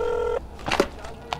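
A telephone being dialed: a steady electronic tone for a moment, then a few brief keypad beeps, close and fairly faint in a quiet room.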